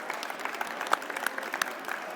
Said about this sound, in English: Give him a round of applause who joins me on stage